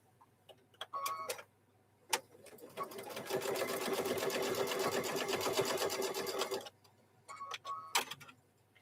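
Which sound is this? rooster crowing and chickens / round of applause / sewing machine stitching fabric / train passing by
sewing machine stitching fabric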